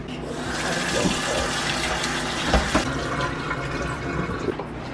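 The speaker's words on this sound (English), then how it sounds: "We're just gonna wash this oxtail nice and clean and clean up the excess fat and debris." Running water rushes steadily while oxtail is washed in a kitchen, a close, continuous splash with faint handling knocks, no voices.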